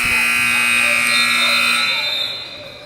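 A loud, steady electronic buzzer sounds at the end of a quarter in a boys varsity high school basketball game, holding for about two seconds before fading, over gym noise.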